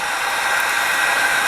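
A heat gun blows a loud, steady hot-air hiss while shrinking plastic wrap around books, a constant close whoosh with no break over a short moment and no voices.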